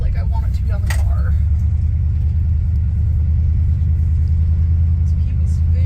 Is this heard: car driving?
yes